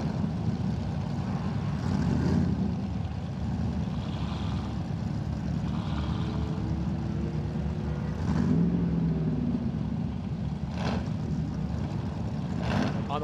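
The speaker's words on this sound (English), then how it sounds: "Brian's car sounds mean as he heads up through that first bend." An off-road race car engine at King of the Hammers qualifying in 2019, a continuous low rumble with a rising rev partway through, steady and somewhat distant.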